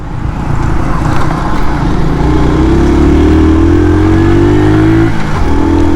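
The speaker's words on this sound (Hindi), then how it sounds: "बस यहाँ पे ऐसी ट्रैफिक होती है" Busy road traffic in Rawalpindi, heard from a Honda CD 70 motorcycle: engines hum steadily and loudly, with cars and motorbikes revving and accelerating close by and rising engine tones shifting throughout, and no talking.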